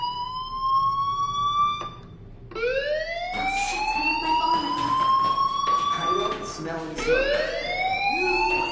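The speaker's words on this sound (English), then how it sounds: "do you hear that fire alarm? That means you should be outside." A video game fire alarm wails in rising, swooping siren tones that repeat over and over, loud and continuous, with a few overlapping sweeps near the end.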